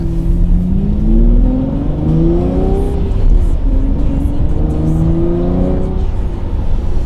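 A Lamborghini Murcielago engine revs up repeatedly, pitch rising and falling in waves through single-clutch paddle-shift gear changes, loud and close.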